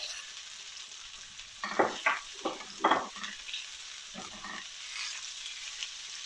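Peppers stir-frying in a hot pan for Korean spicy octopus (nakji-bokkeum): a steady soft sizzle broken by several bursts of scraping and tossing, close and fairly quiet, with no talking.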